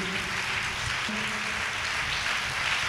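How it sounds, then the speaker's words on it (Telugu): A church congregation claps loudly at a sermon, a dense and continuous wash of many hands that holds steady throughout, with a faint murmur of voices underneath. "చప్పట్లు కొట్టండి ఒకసారి గట్టిగా."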